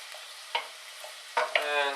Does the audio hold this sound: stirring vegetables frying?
yes